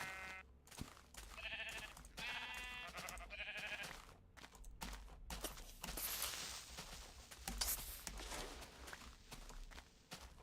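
Sheep in the video game Minecraft bleating in short repeated calls, with several bleats early on, then shuffling footsteps and game noise; no talk.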